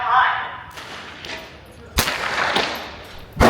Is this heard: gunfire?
yes